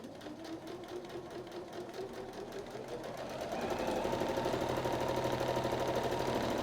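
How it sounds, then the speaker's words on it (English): A sewing machine stitches French seams on a handwoven bag, sewing a 3/8 inch seam with a steady, rapid mechanical whir that speeds up and grows louder partway through, close and alone. "I now sew over these seams again at a 3/8 inch seam and encapsulate the initial seam"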